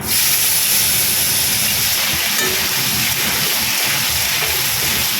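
Pointed gourd, ridge gourd and potato pieces sizzle in hot oil with cumin seeds, a loud continuous frying hiss that stays steady throughout at close range, with no talking.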